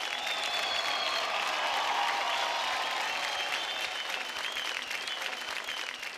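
A television dance-competition studio audience keeps up dense, continuous applause at an even level, with faint cheers rising through it.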